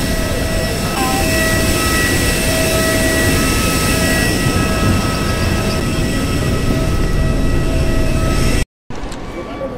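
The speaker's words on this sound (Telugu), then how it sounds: "బెంగళూరులో ల్యాండ్ అవుతున్నాం ఇప్పుడు" A loud, steady roar of an airplane's engines fills the cabin while landing at Bengaluru airport, constant and droning, cutting out suddenly near the end.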